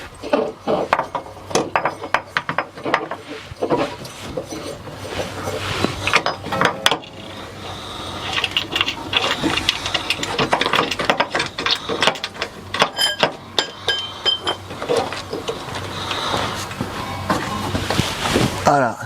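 A wrench tightens a size 17 nut to fasten a metal plate under a support, giving dense, fast ratcheting clicks and metallic rattles close by for the whole stretch.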